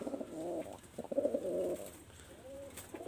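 A pair of Teddy king pigeons cooing in short repeated throaty bursts close by, with quiet gaps between calls and no speech.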